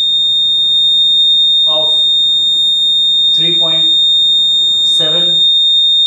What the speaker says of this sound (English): Now observe on the FFT display in the software what happens when we switch on the piezo buzzer.